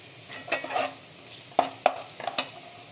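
Whole cardamom, cloves, cinnamon and black pepper sautéed in a pan for Malvani chicken curry: a soft sizzle with a few distinct spoon scrapes and clinks against the metal, close by and sparse.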